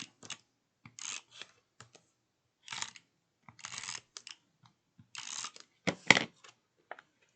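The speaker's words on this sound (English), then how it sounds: "I am going to add some tape to it." Tape being pulled and pressed onto a small paper label, with short crinkly rips and taps that come in irregular bursts, close and clear against silence.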